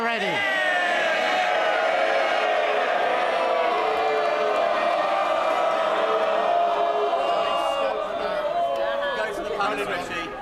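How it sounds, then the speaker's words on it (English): Members of Parliament cheer in the House of Commons, a loud sustained roar of many voices with shouts and calls, steady throughout and tailing off slightly at the end. "This is the moment for cheering."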